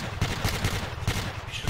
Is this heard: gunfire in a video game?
yes